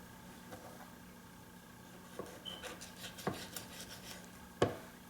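Knife cutting up a prepared eel on a board, heard as a few scattered, faint chops and scrapes with one sharper knock near the end, no talk over it.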